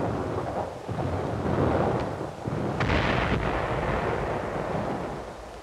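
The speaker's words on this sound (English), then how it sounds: "British artillery positions near Villers-Bocage under Nazi counter-battery fire." Artillery counter-battery fire falling on British gun positions near Villers-Bocage in wartime Normandy, heard as loud, continuous rumbling booms and blasts with sharper cracks around the middle, with no voices.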